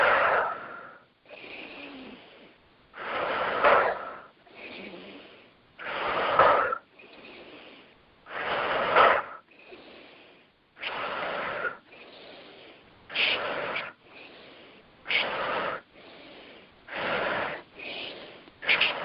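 Guided meditation breathing, a steady series of deep audible inhales and exhales, close and fairly loud, rhythmic with short pauses between breaths, gradually quickening toward the end.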